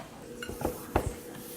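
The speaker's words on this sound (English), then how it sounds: "Stir it up a little bit." A spoon stirs baking soda into violet-tinted vinegar in a container, giving a few brief clinks and scrapes against the sides, close and short.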